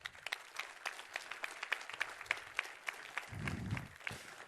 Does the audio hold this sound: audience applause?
yes